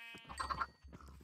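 Short bleats from sheep in the video game Minecraft, two or three quick wavering calls in a row, fairly close and clear with no talking.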